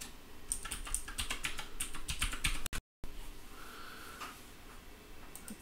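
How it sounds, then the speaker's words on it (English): Someone types a password on a computer keyboard in a quick run of crisp, close keystrokes, then after a brief pause a few softer taps follow. "Go ahead and hit login and enter our password."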